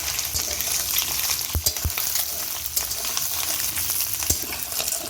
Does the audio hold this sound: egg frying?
yes